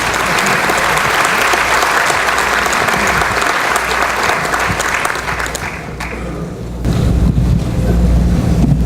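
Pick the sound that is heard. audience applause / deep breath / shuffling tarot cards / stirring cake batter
audience applause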